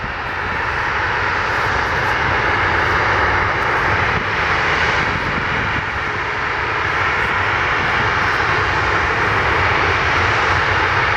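A fixed-wing airplane passes an airport in Portland in wacky weather, its engine a loud, sustained roar that swells gently and holds steady for the whole stretch.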